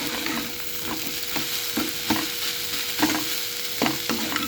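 Leafy greens stir-fry in a pan, a soft steady sizzle broken by regular scraping strokes of a spatula, close and moderately quiet with no talk.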